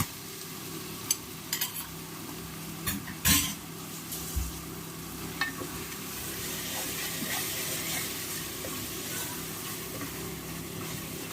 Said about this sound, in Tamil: தயிர் போட்டுடலாம்.